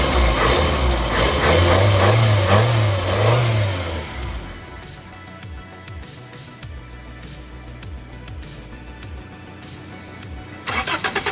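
A 1978 Honda Civic with fuel tank trouble cranks and catches, then revs in several rising and falling surges before settling to a rough, uneven idle, heard close and loud with a burst of revving at the end.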